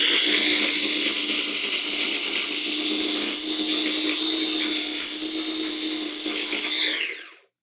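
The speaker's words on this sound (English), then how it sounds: "Grind it to a smooth" A blender grinds ingredients to a smooth paste with a loud, high, steady whine close by, running continuously for about seven seconds before winding down and stopping.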